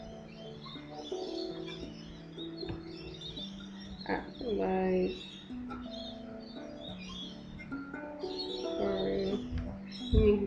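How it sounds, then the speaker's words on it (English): Birds calling outdoors, soft cooing like pigeons or doves and scattered chirps in the background, under a person's speech. "You can probably hear some birds right now."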